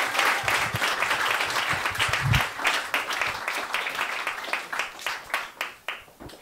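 An audience at a live talk event applauds to welcome a speaker to the stage, a sustained wash of clapping that thins out into scattered individual claps as it fades, with no voices.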